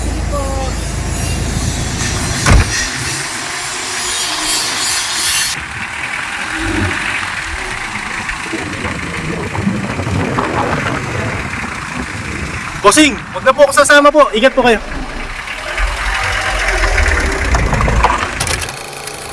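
A Mitsubishi L300 van engine idles and revs with a steady rumble while people talk nearby, and a brief rattle cuts in partway through.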